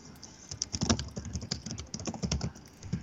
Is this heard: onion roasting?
no